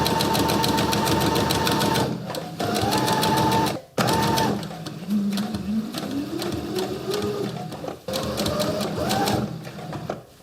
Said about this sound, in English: try not to sew into the tape like I've done in a couple of places